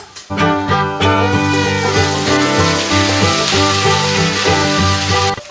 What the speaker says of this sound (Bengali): আদা রসুন ভালো করে ভাজা হয়ে গেছে